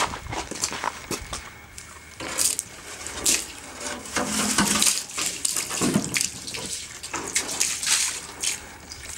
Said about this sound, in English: So I'm going to take this over and put it in a tank to soak because it's got lots of mud in it still.